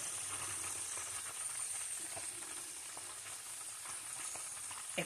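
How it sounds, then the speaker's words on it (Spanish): Seasoned fish marinated with adobo, sazón, salt and garlic frying in a pan, giving a constant close hiss and sizzle with scattered small pops and crackles, steady throughout and without talk. "Ahí los puse a freír."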